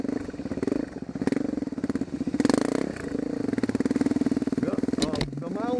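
A dirt bike engine drones close up while riding through Hawaiian mountain backwoods, a steady, throbbing putter with small surges in revs and a voice talking over it.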